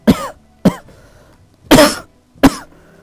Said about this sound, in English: Making myself cough.